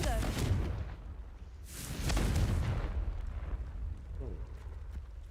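Confringo fire spell blasts in the video game Hogwarts Legacy: two booming explosive bursts about two seconds apart, each with a rumbling tail, over low game background sound.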